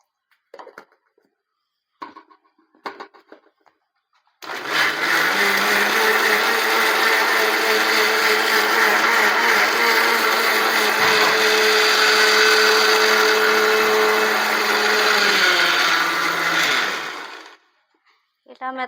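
A mixie blender grinds carrot, beetroot and tomato with a splash of water for juice, a loud steady whir running about thirteen seconds after brief handling clatter, then stopping.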